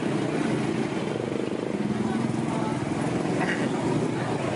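Motorbikes pass by on a beach road, a steady, loud engine drone that fills the scene and rolls on without a break, with a person talking under the noise.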